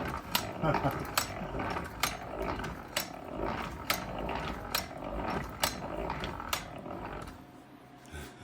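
The engine of a 1927 Ford TT truck is being hand-cranked, with a regular series of sharp clanking, ratcheting strokes roughly once a second over a mechanical rumble. The sounds are fairly close and moderately loud.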